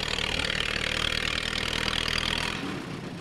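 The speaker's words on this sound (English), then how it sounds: "We'll wait till this tractor goes by." Tractor driving past at a tractor pull during the North Brantford Festival, its loud engine rumbling steadily close by for a few seconds and then dropping away as it moves off, with no voices over it.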